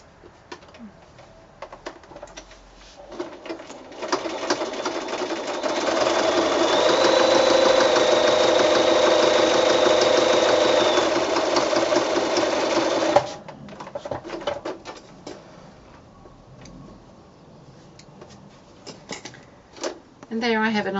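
Sewing machine stitching a seam on a small quilted mini snap bag, running in one steady whirring burst of about ten seconds, with quieter handling sounds and a person talking before and after.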